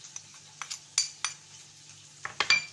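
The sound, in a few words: stirring pizza topping mixture with spices in a bowl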